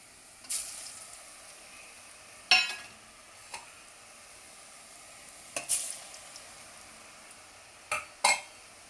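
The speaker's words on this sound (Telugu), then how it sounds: "ఇప్పుడు వేసేస్తామండి, ఒక్కొక్కటిగా వేసేస్తున్నాం." Rice and urad flour janthikalu dough frying in hot oil: a soft, steady sizzle runs underneath, broken by scattered sharp clinks and taps of a ladle against the pan.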